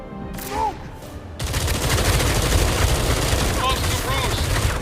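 Sustained automatic gunfire erupts in the Batman: Arkham Shadow VR game after a brief quieter lead-in with a voice, then continues loud and dense to the end.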